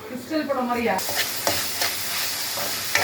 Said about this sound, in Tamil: ஒரு ரெண்டு வெங்காயத்தை கட் பண்ணி போட்டுக்கலாம் வெங்காயம் நல்லா வணக்கிக்கலாம்